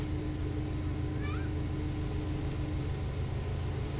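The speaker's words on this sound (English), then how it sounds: "Kitty wants attention." A pet cat gives a brief meow indoors, a short rising cry heard once over a steady low background hum.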